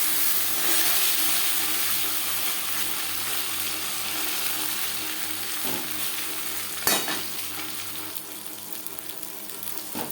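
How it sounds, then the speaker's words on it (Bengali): Boal fish roe fries in oil in a pan with a constant loud sizzle, broken by a couple of sharp scrapes and clinks of a spatula. "একটা সাইড ভাজা হয়ে গেলে অপর সাইডটা উল্টে দেব।"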